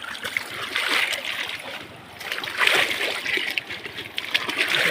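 Water splashes and spatters continuously while a motorcycle is washed in a stream, with irregular bursts of spray and trickling, fairly close.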